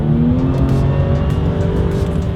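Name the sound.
2018 Jaguar F-Pace S accelerating in dynamic sport mode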